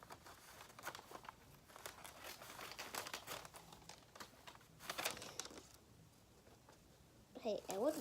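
Faint, intermittent crinkling and rustling of wrapping paper being handled, soft and close, with quiet background noise and a brief chirpy sound at the end.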